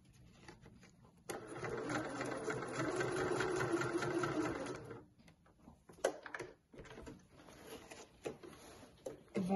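A sewing machine runs in a steady, close whirring burst while stitching a cross on a pyjama waistband, then slows into a few scattered clicks and taps.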